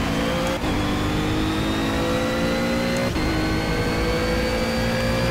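A Ginetta GT4 race car's engine in Project CARS at the Zhuhai circuit, droning loud and close, with two clear gear changes that drop the pitch before the whine climbs again.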